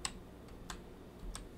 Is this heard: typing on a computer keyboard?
yes